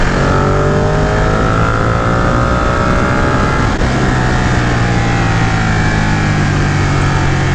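A 2018 Ducati Panigale 959 motorcycle engine drones steadily while being ridden, its pitch rising and falling through the gears with a continuous loud roar and wind, no talking.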